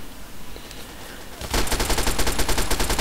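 Gunfire from a weapon in the video game Fallout 3: after a quiet stretch of game ambience, a loud rapid automatic burst begins and continues steadily to the end.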